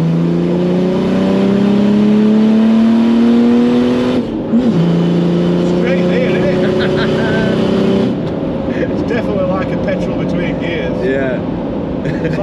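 Big-turbo OM606 diesel engine swapped into a Nissan Patrol, revving loud and close as it pulls through a gear with a rising drone, then easing to a rougher idle-like rumble.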